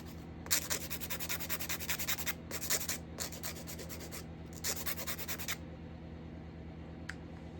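Bursts of rapid, gritty scraping from a nail file on acrylic nails, several strokes in quick succession with brief pauses between, close and steady over a low background hum.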